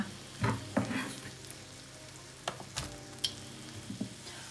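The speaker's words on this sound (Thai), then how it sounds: "ผัดด้วยกันให้หอมเลยค่ะ" Dried pork and onion stir-fried together in a pan, giving a soft, low sizzle with scattered clanks and scrapes of a spatula, some sharper knocks coming in irregular bursts.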